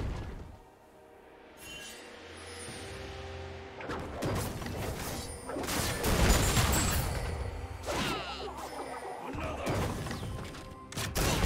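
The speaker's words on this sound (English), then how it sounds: "Team's turret has been destroyed." Turret destruction in League of Legends, a burst of mechanical crashing, creaking and whooshing debris that builds over several seconds, loud and dense with overlapping impacts.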